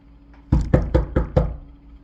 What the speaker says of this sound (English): somebody's knocking on my door